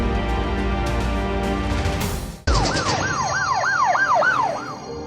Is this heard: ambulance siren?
yes